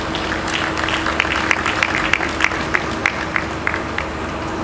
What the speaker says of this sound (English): Ladies and gentlemen, a round of applause once again for Mr.